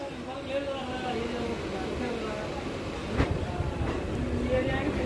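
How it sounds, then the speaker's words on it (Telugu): A MEMU passenger train pulls out of Krishnagiri junction, heard from on board as a steady rolling rumble with a brief clank near the middle, and faint voices blended into the noise. "ఫైనల్లీ 3 times క్రాసింగ్ అయినాక మన ట్రైన్ అయితే కృష్ణగిరి జంక్షన్ నుండి అయితే బయలుదేరింది"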